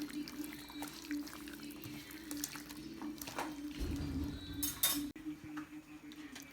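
Chicken roll filling is stirred and mixed in a bowl, giving quiet scraping and intermittent clinks of a utensil against the dish, close but faint, with no talking.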